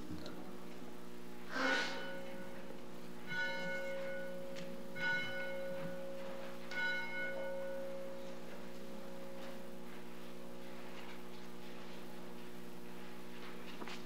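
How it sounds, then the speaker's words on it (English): A church bell rings at the start of Sunday worship at First Congregational Church in Mountain Home, Idaho, with about four slow, evenly spaced strikes whose resonant hum lingers between them over a steady low room drone. "We want to begin our worship this morning with the ringing of the church bell."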